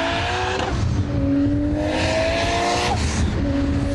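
Modified turbocharged Toyota Supra on a race track, loud engine revving up through several gear changes with rising tones, tire squeal and a fast close pass.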